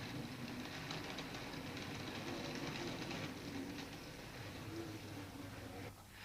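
Model railway train running down a branch line on a Bluebell line layout near Horsted Keynes, a faint continuous rattling rumble of wheels on track with soft clicking, steady and without talk.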